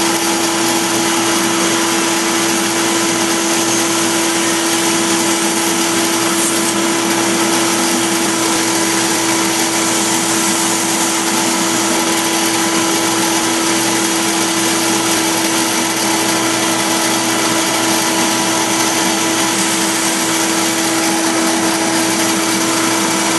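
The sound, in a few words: machine cutting an espresso tamper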